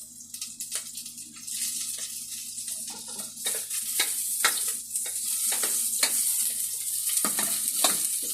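Garlic sizzles in a hot pan while a utensil stirs it, with repeated sharp scraping clicks over a steady frying hiss, close and moderately loud.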